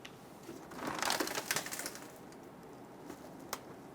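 A plastic fender liner is pulled off a 2012-2017 Toyota Camry, producing close crunchy, crackling plastic flexing in a dense burst followed by a few scattered clicks and a sharp snap.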